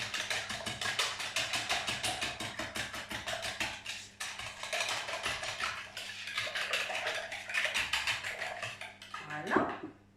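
A flat whisk beats a potato cake batter in a bowl, producing fast, continuous rhythmic scraping and tapping against the bowl, close and fairly loud, ending with a brief clank near the finish.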